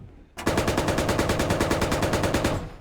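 Sustained automatic gunfire in the Squad military video game, a loud, close, rapid burst of evenly spaced shots that runs unbroken for more than two seconds, with no talk over it.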